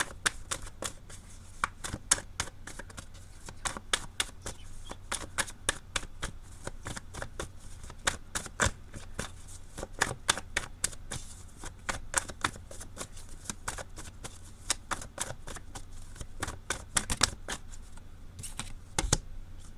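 Tarot cards are shuffled in rapid riffling bursts, a steady stream of crisp, close papery flicks and taps with no talk.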